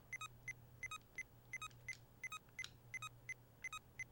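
Short electronic beeps from Game & Watch Gallery 2 in quick pairs and triplets repeat steadily over a low hum, quiet and with no one talking.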